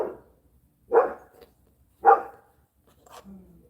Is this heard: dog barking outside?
yes